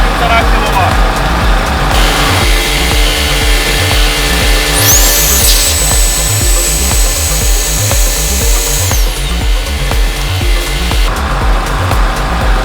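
Profinstrument BG-3800 petrol generator runs steadily under a 1.5 kW heater load, a continuous loud engine drone with a constant low hum throughout, with a brief whining tone partway through.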